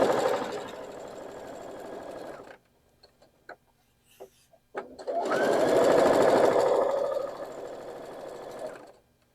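A sewing machine stitches a nine patch quilt block, running in two steady bursts of motor whir with a short quiet pause between them, close and loud.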